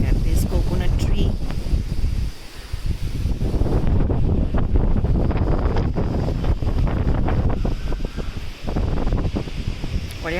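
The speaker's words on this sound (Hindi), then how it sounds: "कितनी तेज़ हवा है, बारिश" Strong cyclone winds and rain lash a rooftop during Cyclone Amphan, a loud continuous roaring buffet of gusts against the microphone with swelling and dipping bursts, and a voice talks intermittently over the storm.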